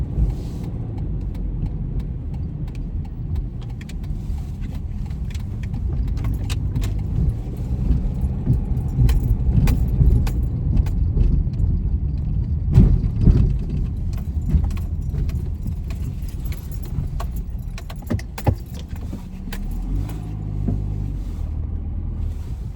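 A car drives along a road, a steady close engine and road rumble with intermittent rattles and clicks throughout, no talking.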